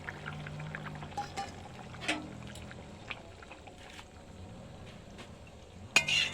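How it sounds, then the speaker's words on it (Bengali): Fried cauliflower going into a simmering curry in a pot, with soft splashes and gentle pan clatter over a low bubbling background, and a sharper clink and splash near the end. "এর মধ্যে ভেজে রাখা ফুলকপিগুলো দিয়ে দিলাম।"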